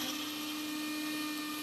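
An electric grinder whirring steadily as it grinds cumin, cinnamon, clove, garlic and ginger, a continuous high-pitched motor whine, close and even, with no pauses.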